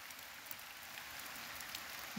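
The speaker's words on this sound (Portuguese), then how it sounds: "Já chegou com muita chuva," Steady rain falling in a forest region, a soft continuous hiss with scattered droplet patter, faint and distant, no voices.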